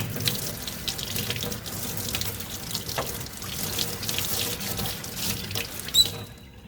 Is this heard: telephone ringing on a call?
no